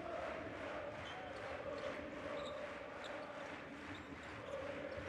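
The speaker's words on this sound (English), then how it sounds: "You can hear the home crowd" The home crowd at a Champions League basketball game, Aris against Banvit, fills the arena with a constant distant roar, a broad murmur that swells slightly at times, with play-by-play commentary running over it.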